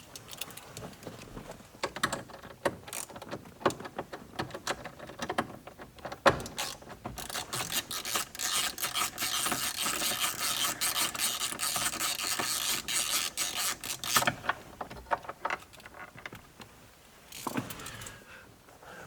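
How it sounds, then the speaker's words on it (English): Bolts are worked loose from a Jeep JL/JT rearview mirror mount with a hand tool, giving close, irregular ratcheting clicks and scraping mechanical rattles in bursts. "Once you get all three bolts out of it"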